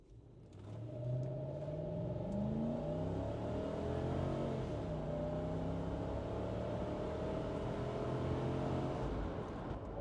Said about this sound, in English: I'm going to do a quick little 0 to 60 right here.